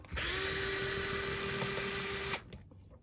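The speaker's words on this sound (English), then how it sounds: "it's my drill." An electric drill runs steadily in one continuous, high whirring burst of about two seconds while fitting an aluminium bell crank, close and clear, then cuts off into quiet room noise.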